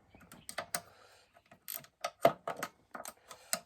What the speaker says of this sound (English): You could probably try with a ratcheting spanner